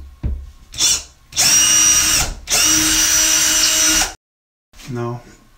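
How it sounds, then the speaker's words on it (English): A power drill bores screw holes for mounting a dimmable LED backlit bathroom mirror, running in two long whirring bursts after a short start, then a brief pause and a quick final spin, loud and close. "And drill the holes."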